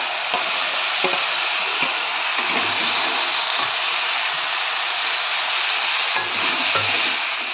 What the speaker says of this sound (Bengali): আজকে বানাচ্ছি তরকা, লঙ্কা সব একসঙ্গে দিয়ে দেবো।